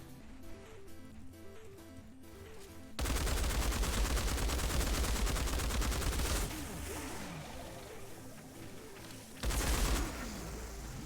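Battlefield LMG light machine gun firing in Outriders, long loud sustained bursts of rapid automatic fire over a rhythmic game music loop, with a pause in the middle and another short burst near the end.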